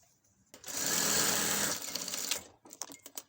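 A sewing machine stitches an elastic trouser waistband in one close, loud, steady run of about a second, then slows and stops, followed by faint handling clicks.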